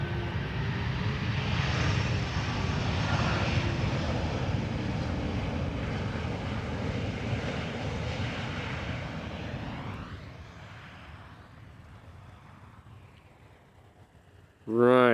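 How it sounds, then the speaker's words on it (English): Embraer E2 jet arriving at Amsterdam Schiphol from Manchester on approach, a loud broad engine roar that holds steady and slowly fades as the aircraft passes, with a brief sharp tonal burst at the very end. "E2 Embraer arriving from Manchester."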